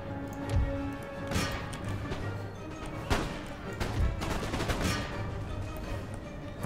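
Musket volleys and artillery fire from a Napoleonic-era battle in Empire: Total War, with a United States army marching on Minsk: a steady crackle of distant gunshots with several sharper cracks around the middle, over a constant battlefield din.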